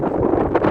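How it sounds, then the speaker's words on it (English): Strong night wind gusting near Eglinton and Laird in Toronto in December, a steady loud rushing roar buffeting the microphone with brief surges, no voices. "A very windy night near Eglinton and Laird."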